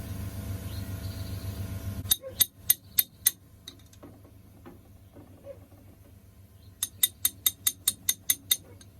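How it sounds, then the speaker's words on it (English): A ratchet wrench with an extension installs a Honda Element transmission seal, clicking in two brisk runs, about five sharp clicks, then a quiet pause, then a longer run of evenly spaced clicks. "Now I'm going to show you how to put a seal in with this wrench"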